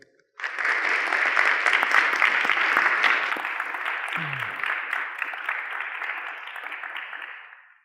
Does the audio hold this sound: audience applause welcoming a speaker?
yes